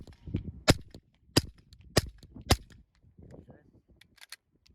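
Four sharp suppressed pistol shots from a Rex Silentium MG7 suppressor firing subsonic Federal ammunition, evenly spaced cracks about half a second apart, each followed by a brief mechanical clatter, with a short spoken word before the last shot.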